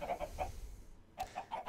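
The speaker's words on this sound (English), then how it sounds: "So here the chickens are. We got chickens." Chickens in the Minecraft video game cluck in short, clipped bursts, a quick cluster at the start, a brief pause, then another run of clucks, close and fairly quiet.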